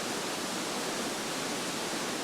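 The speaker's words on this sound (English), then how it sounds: "There's like 2 waterfalls I under know. us right now." Two waterfalls rush beneath a bridge at a castle-themed park in Austria, a steady, dense roar of falling water that holds constant and loud throughout, with no voices over it.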